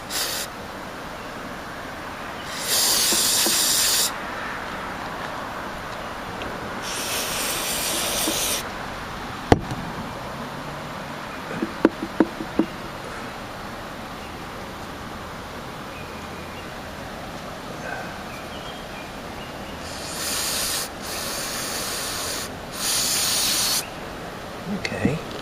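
Cleaner is sprayed onto a Homelite XL2 chainsaw in several loud hissing bursts of a few seconds each, separated by quieter stretches with occasional clicks and knocks, and a voice is heard in between.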